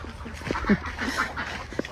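Ducks quack in a village yard, a few short calls close by against low, steady farmyard background noise.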